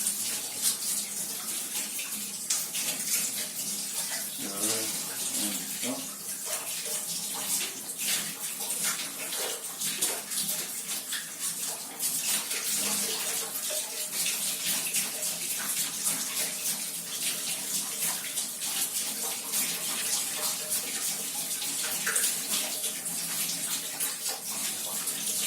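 Hot water pours steadily from a kitchen tap beside a Hotpoint dishwasher, a continuous rushing splash that holds an even level throughout with no talking.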